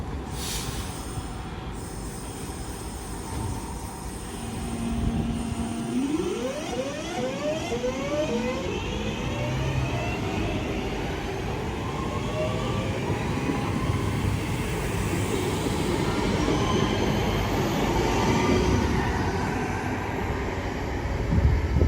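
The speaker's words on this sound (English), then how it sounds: "Train now leaving is a Class 323" Class 323 electric train pulling out of St Helens Junction bound for Crewe, with rising motor whines that climb in pitch as it accelerates, then a long steady rumble of wheels on rails that stays close and loud.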